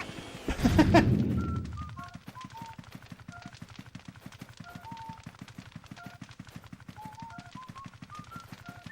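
A loud blast from bombs exploding in the video game Luigi's Mansion booms near the start and fades within a second, followed by a steady stream of rapid popping clicks and faint game music tones.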